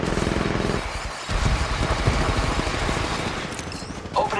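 Rapid gunfire bursts in the mobile shooter game Apex Legends Mobile, dense and close, with heavy low-end thumps and an in-game voice line over the shooting.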